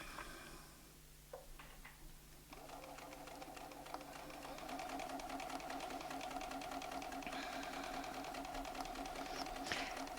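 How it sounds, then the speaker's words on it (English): A Bernina sewing machine stitches quickly around a quilting ruler template, its needle ticking in a fast, even rhythm close by, starting after a brief pause and running steadily. "what I'm going to do is sew around that template"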